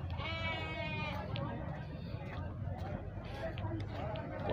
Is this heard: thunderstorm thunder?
no